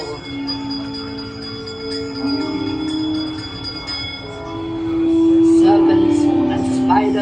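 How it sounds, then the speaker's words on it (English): A bright bell rings with sustained ringing tones during Disneyland's Haunted Mansion ride, layered over a busy, noisy background and rising louder toward the end. "give us a hint by ringing a bell."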